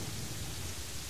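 Blizzard weather in the video game Terraria gives a dense, even hiss like steady rainfall, continuous and moderately quiet with a low rumbling underlayer.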